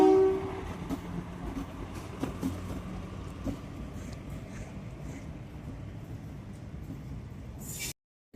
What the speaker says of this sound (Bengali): আমাদের এখানে যে নতুন রেল হয়েছে সেই ট্রেন ঢুকছে দেখা যায়